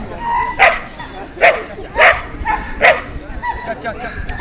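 A female dog barks in short repeated bursts, about four sharp yips spaced roughly half a second to a second apart, close and loud during an obedience training session, with a trainer talking over the barks.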